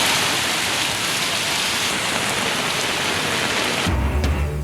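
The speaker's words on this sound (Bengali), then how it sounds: "যশোরে স্বস্তির বৃষ্টি" Rain falls in Jashore, Bangladesh, after a severe heat wave. It is a dense, steady hiss of heavy rainfall that cuts abruptly to a lower, rougher rumble near the end.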